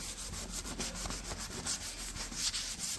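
600-grit sandpaper rubs over primer on a Jaguar X-type, making a continuous, close, soft rasping with quick back-and-forth strokes, steady and moderately quiet, with no talking.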